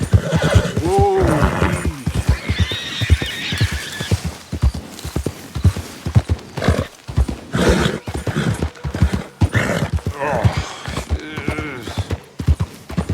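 Horse in Red Dead Redemption 2 neighs with a rising, wavering whinny, then hooves clip-clop in a steady, close rhythm, with a second whinny later and game ambience throughout.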